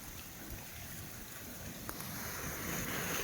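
Water running along a stream beside a sheep path near where four rivers meet, a steady broadband rush with no voices, rising slightly toward the end.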